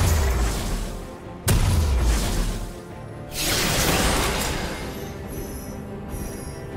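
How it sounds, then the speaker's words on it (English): A turret being destroyed in League of Legends, heard as two heavy, loud booms about two seconds apart, each followed by a crumbling, debris-like rumble over a continuous bed of game sound, with no talking. "Red team's turret has been destroyed."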